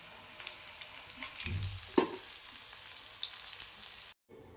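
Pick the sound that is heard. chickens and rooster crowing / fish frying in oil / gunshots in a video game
fish frying in oil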